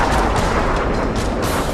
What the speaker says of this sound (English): The F-15 fires a barrage of rounds into the peak.